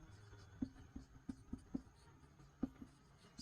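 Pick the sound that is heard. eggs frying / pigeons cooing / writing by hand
writing by hand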